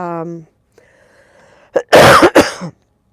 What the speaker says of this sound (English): I still have a little bit of the COVID cough happening